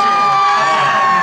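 An audience at an outdoor temple anniversary gala in Tainan applauds and cheers for a singer in a short, loud burst of crowd noise.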